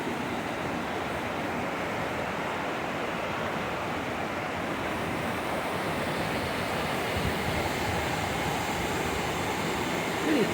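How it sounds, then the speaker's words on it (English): Powerful Wailuku River in Iao, Maui, rushing steadily as a continuous broadband roar of flowing water, loud and unbroken throughout, with no voices over it. "I think they call it the Wailuku River."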